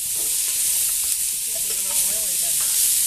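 Carrots being stirred into bacon fat and garlic in a soup pot, a steady close sizzle and frying hiss with soft scraping from the mixing, running continuously without talk.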